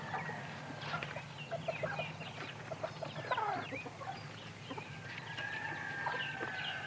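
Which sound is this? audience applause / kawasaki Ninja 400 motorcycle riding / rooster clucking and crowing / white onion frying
rooster clucking and crowing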